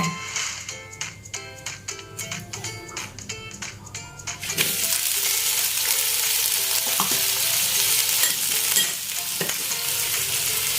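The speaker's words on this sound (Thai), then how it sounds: "ทอดให้สุกเลยนะคะ" Long eggplant, blanched first, hits hot oil in a pan for a Thai eggplant-and-egg stir-fry. Light utensil clatter and tapping give way midway to a loud, steady close sizzle that holds to the end.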